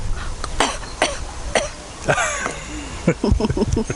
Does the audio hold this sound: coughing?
yes